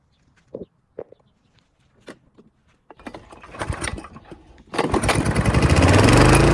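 A lawn mower engine, its spark plug treated with WD-40, gives a few separate knocks and pulls, then sputters and catches into a loud, steady running drone close by.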